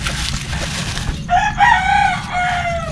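Chickens near a hatching nest, with a rooster-like crow and clucking calls over a rustling background, close and fairly loud.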